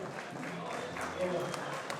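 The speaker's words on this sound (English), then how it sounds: "Hand of applause" Fathers and sons get a round of applause at an old-timers' luncheon in Santa Cruz, soft scattered clapping from a smallish room, faint and fairly even, with people talking over it.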